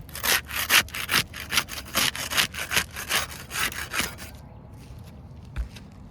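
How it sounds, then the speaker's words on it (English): Putty knife scraping under a roof shingle to break its seal, a run of rhythmic rasping strokes, close and loud, that stops toward the end with one last scrape. "We'll use the putty knife to unseal the top shingle."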